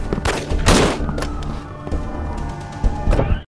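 Gunfire rings out in an action film scene as a series of heavy shots and thuds over a rumbling soundtrack, ending abruptly.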